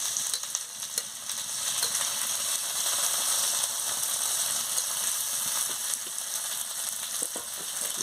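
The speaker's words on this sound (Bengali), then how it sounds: "দিয়ে ভালো করে নাড়িয়ে নিচ্ছি" Spices frying in a pan with mustard paste, turmeric paste and chili powder, a dense continuous sizzle with faint stirring scrapes throughout, no talk.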